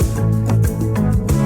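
The call phrase from the arrangement of a song plays loud and continuous, with layered sustained tones that slide in pitch between short phrases.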